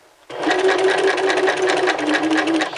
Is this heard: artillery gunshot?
no